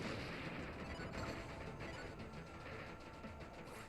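Cannon fire in the video game Kirby: Planet Robobot, a dense, continuous roar of booming blasts with no clear gaps, heard alone without talk.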